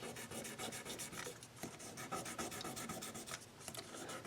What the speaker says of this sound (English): let's polish the frets up a little bit here